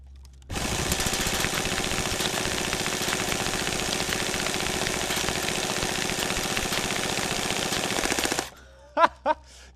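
An airsoft gun bought from Amazon fires one long, loud, unbroken full-auto burst lasting about eight seconds, after which a few brief voice sounds follow.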